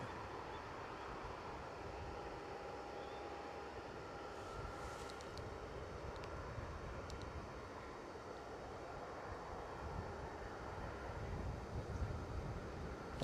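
A heavy NATO Airbus A330 MRTT tanker departing Newcastle International gives a distant, even jet rumble with some wind noise, low and continuous and heard alone.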